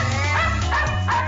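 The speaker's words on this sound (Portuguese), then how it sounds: "Quem vê essa turma toda latindo e correndo junto" Several dogs at an animal rescuer's home bark and yip in quick overlapping bursts, close and loud, over a steady low background hum.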